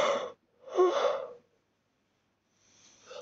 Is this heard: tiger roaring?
no